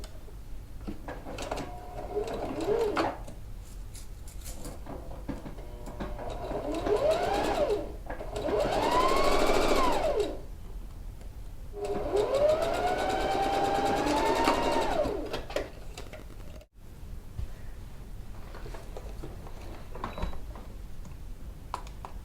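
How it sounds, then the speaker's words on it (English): A sewing machine stitches down the edge of a quilted coat sleeve in long, steady runs of rapid motor hum, with pitch rising and falling across several bursts, close and fairly loud, followed by a quieter stretch. "now I can stitch down this edge"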